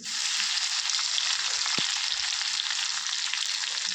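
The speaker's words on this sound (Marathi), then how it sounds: "लसूण चांगला तळसून घ्यायचं आहे तेल तापलं आहे" Crushed garlic frying in hot oil with crackled mustard seeds and cumin for a tawa okra fry gives a loud, steady, close sizzle that runs unbroken throughout.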